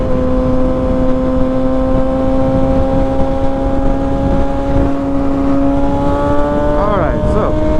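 A motorcycle cruises along with a steady, loud engine drone and heavy wind rush, holding an even note throughout with a brief wavering pitch swoop near the end.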